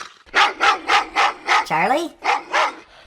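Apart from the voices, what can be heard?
big dog barking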